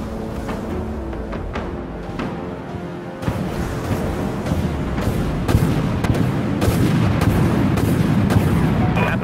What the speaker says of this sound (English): Missiles locked and ready to fire, Captain. Let him loose.